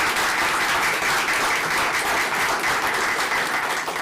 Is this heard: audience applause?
yes